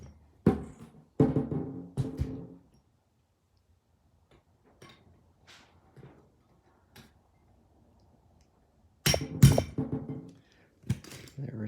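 A Desmond Simplex vise part is whacked into place in a workshop, several sharp knocks and thunks in short bursts separated by quiet gaps.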